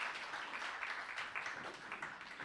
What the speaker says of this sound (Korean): 고생했다는 의미로 박수 한번 부탁드려요.